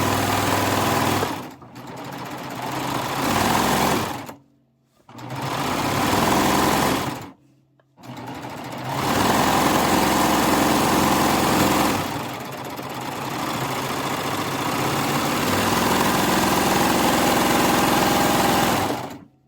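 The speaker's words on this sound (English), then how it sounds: "Okay, onto the sewing machine." A sewing machine stitches a pillow in several bursts, its steady mechanical whir stopping and starting, then stitching continuously for a longer stretch.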